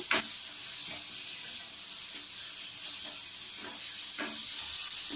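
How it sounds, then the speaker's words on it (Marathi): Onion and tomato sauté in a pan for an oyster masala, giving a steady soft sizzle with a few light scrapes of a spoon, and no voices. "आता आपला कांदा टोमॅटो परततोय छान, जरा छान मऊ होऊन दे त्याला"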